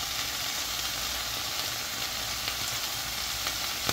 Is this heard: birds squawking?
no